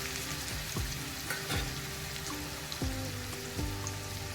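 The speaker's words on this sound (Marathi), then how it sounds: "आता मी इथे एक मोठा कांदा बारीक करून घेतलेला आहे तो टाकायचा आहे" Chopped large onion dropped into hot oil with cumin, hissing and sizzling steadily with a few sharp crackles and stirring scrapes, close by, for a leafy wild-greens curry.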